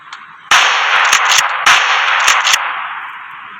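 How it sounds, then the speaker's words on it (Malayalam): Gunfire in the Rope Hero video game: several sharp shots in quick succession, loud and close, each leaving a short ringing tail with no voices over it. "വെടിവെച്ച് അയാളെ വെടിവെച്ച്"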